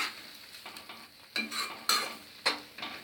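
Grated carrot halwa with cardamom powder and sugar being sautéed in a pan, with a faint sizzle and several distinct scraping stirs of a spoon against the metal.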